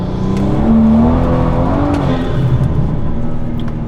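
A BMW F30 accelerates hard under boost, its engine note rising in pitch as it pulls through a gear, loud and close with steady road roar beneath, in traffic.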